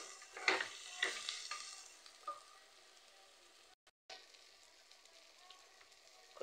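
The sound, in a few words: food frying and being stirred in a pan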